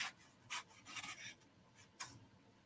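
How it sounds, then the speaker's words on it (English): Edges trimmed off a sublimation print. Several short, crisp rasping cuts come close together in quick bursts over a faint background hiss. "I always recommend that you trim the edges off"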